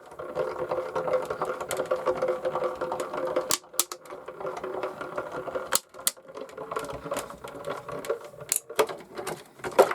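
A Tonic Legacy Curio die-cutting machine pressing, with a steady mechanical whirr broken by sharp clicks and faint crackling snaps, heard close and alone.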